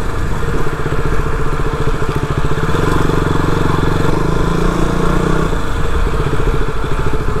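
A motorcycle engine runs close by, loud and continuous, with a rapid, rough, throbbing putter that holds steady throughout.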